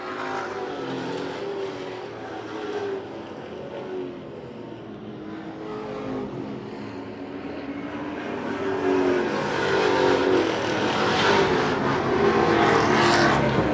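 Race cars circle the oval at Wiscasset Speedway, their engines a continuous droning roar that builds louder toward the end as the pack approaches, heard from a distance without voices.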